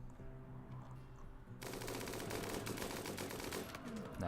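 Rapid gunfire in the Rimworld video game, a dense automatic burst that erupts suddenly partway through and then stays loud and continuous, with no voices over it.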